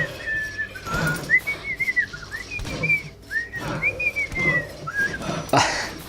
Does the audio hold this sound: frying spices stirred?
no